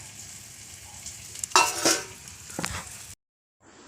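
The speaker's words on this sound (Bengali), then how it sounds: "এখানে আলু ভাজা হচ্ছে" Potatoes fry in a pan in a home kitchen, giving a few loud sizzling bursts with some stirring and utensil clatter over a steady low frying hiss. The sound then stops abruptly.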